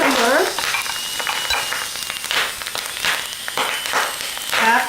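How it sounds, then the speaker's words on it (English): Cucumber stir-frying with wood ear mushrooms in a home wok: continuous sizzling with repeated scraping stir strokes of a spatula, close and fairly loud, no talk. "to cook for 4 minutes until the cucumber is semi-wilted"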